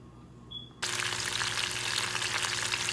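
Turkey wings hit a hot skillet with a sudden loud sizzle that starts after a quiet moment, then a steady, dense frying hiss continues close up.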